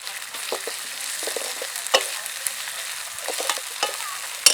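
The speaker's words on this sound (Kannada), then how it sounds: "ಆವಾಗ ಬೇಗ ಫ್ರೈ ಆಗುತ್ತೆ ಮತ್ತೆ ತುಪ್ಪದಲ್ಲಿ ಫ್ರೈ ಆಗೋದು ಚೆನ್ನಾಗಾಗುತ್ತೆ" Thinly sliced ingredients fry in ghee for a chicken ghee roast, giving a soft, steady sizzle with scattered crackles and stirring scrapes, close and fairly quiet, with no voices.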